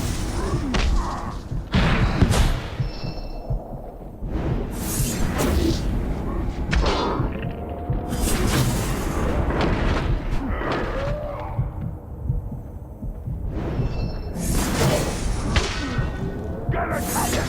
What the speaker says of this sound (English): I like explosions.